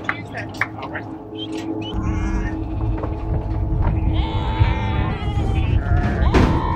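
Sheep on a livestock truck bleat in short calls over a steady low engine hum, with occasional thuds and knocks of hooves and bodies against the truck; a voice talks faintly now and then.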